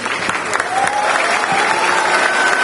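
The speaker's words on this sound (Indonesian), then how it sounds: "Tepuk tangan untuk Ray" A student audience at a Pontianak Q&A session with presidential candidate Ganjar Pranowo breaks into loud, steady applause for a young participant, the clapping dense and close, with faint voices mixed in.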